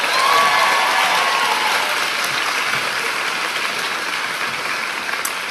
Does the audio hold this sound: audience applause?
yes